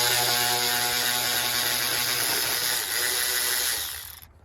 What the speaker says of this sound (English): I gotta take this bolt out here that holds down the